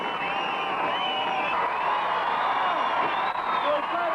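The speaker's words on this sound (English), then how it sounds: "Let's have another applause for all the riders, come on!" A crowd at a 1984 BMX competition cheers and applauds the riders in a steady roar of clapping and whoops, with voices shouting throughout.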